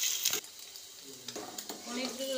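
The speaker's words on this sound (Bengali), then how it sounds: "পনিরগুলো একটু হালকা ভেজে নেব, গ্যাসটা কম করে।" Paneer fries lightly in a pan over low gas, with a quiet continuous sizzle and a few soft stirring scrapes, close by.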